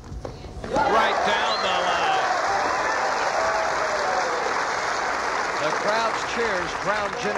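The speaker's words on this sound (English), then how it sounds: "The crowd's cheering." A tennis crowd at the 1990 Virginia Slims Championships finals bursts into applause and cheers after a rally, the clapping swelling in quickly and holding steady, with a commentator's voice over it near the end.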